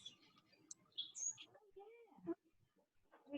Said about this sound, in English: Oh, we can hear the birds.